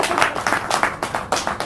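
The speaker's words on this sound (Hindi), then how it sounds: "रयान के लिए ताली बजा दो" An audience claps for Ryan at a yoga and naturopathy session with Swami Ramdev, a burst of fairly close, loud handclaps in irregular waves that rise and fall over a short stretch, with no talking.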